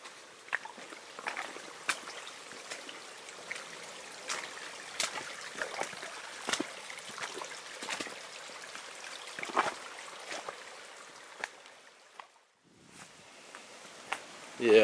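Shallow water trickles and splashes down a rocky mountain path above the Elan Valley in the Cambrian Mountains, a continuous close babble broken by scattered crunching footsteps on wet stones.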